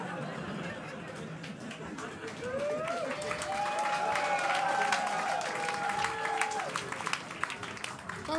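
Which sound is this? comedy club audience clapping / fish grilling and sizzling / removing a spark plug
comedy club audience clapping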